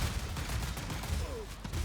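Dense, rapid gunfire crackles throughout a fight in Absolum, a busy, continuous volley of bursts at moderate loudness.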